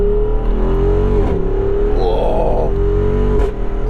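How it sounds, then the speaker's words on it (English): Jeep Wrangler 392 V-8 engine, a 2022 model, revs hard with a steady loud drone that swells mid-clip and crackles with pops and burbles on the down rev, while a short exclamation is heard. "sometimes on the down rev you get little pop pop, little pops and burbles."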